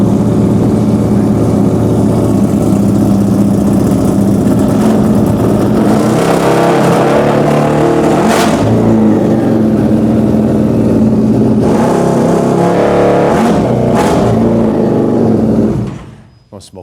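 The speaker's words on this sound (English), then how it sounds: "That's a Bule 1190. It's the world's fastest American production sport motorcycle ever made." A Buell 1190 American sport motorcycle engine roars loudly and close, holding a dense, steady drone with several sharp rev surges before dying away at the end.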